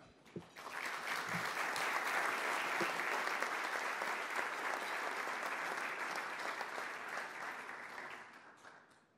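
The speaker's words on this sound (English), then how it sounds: "please welcome with a round of applause, President of Concacaf, Jeffrey Webb." A long round of applause welcoming the Concacaf president at the 2014-15 Champions League draw, dense hall-wide clapping swelling quickly, holding steady for several seconds, then tapering off.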